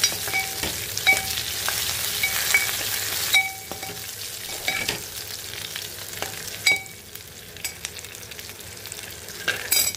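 Dried red chili sizzles in hot oil in a pan for an egg and dried fish curry, a dense crackling fry close up with occasional scrapes and clinks of a stirring spoon, the sizzle easing slightly midway.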